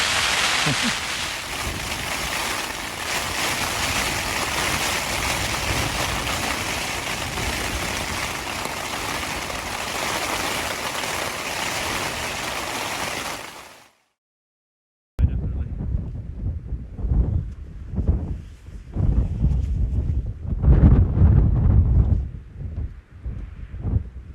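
Strong 50 mph wind and heavy rain batter a tent during a wild-camping storm, a loud roar that goes on steadily, then a short break followed by gusty buffeting.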